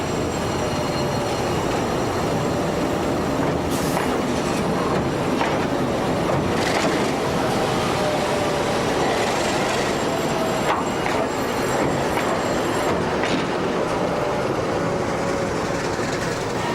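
A train rumbles steadily along the rails, with continuous low roar, occasional metallic squeals and rattling clicks, loud and close throughout without speech.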